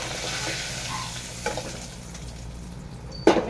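A fish head fries in oil with a steady close sizzle, broken by a few scraping stirs and a sharp clack of the utensil against the pan near the end.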